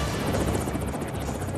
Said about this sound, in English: is mounted to a helicopter and taken for a test drive at California's Edwards Air Force Base.